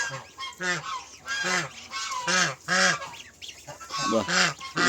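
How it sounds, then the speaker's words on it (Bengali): White-and-black geese with their four newly hatched goslings honk loudly and repeatedly at close range in Barishal, a series of nasal calls that rise and fall in a rough rhythm. "এই যে আমাদের এখানে একটা সাদা কালো হাঁসের এই যে চারটা বাচ্চা করছে"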